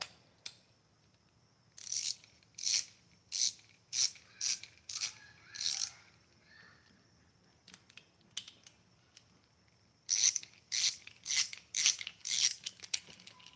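A ratchet wrench clicks in quick bursts while a part is removed during a 5¾-inch slim headlight installation, rapid metallic ticks in two runs separated by a few isolated clicks, close and crisp.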